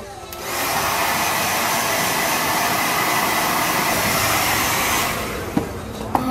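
A hair dryer blows on long hair, a loud, steady close roar that switches on after a moment, runs about four and a half seconds, then cuts off, followed by a couple of small clicks.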